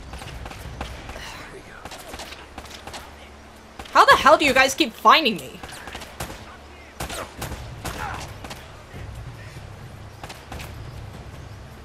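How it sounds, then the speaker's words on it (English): Gunfire in the video game Uncharted: Drake's Fortune, rapid bursts of shots and sharp single cracks scattered across the clip, loudest in a dense volley partway through, with a player talking over the action. "And I'm hearing deadly gunfire."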